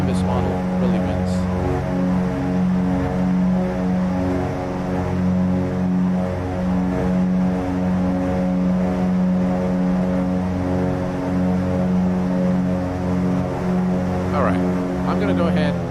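BN-2 Islander twin-engine propeller aircraft, Nimbus model in X-Plane 11, giving a steady, loud droning engine hum with even propeller beat, continuous and close with no talk.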